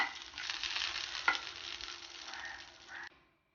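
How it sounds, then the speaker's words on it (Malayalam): Cashews and raisins sizzle in hot oil with browned onions in a pan for prawn biryani, a steady close frying hiss with a brief stir, fading out abruptly at the end. "ഇനി ഇതിലേക്ക് കാഷ്യൂനട്ടും കിസ്മസും ആഡ് ചെയ്ത് കൊടുക്കാം."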